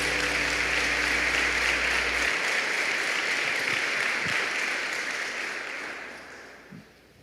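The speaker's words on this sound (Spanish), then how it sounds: "Fuerte ese aplauso para el Señor" Sustained applause from a church congregation fills the room, loud and steady before gradually tapering off toward the end.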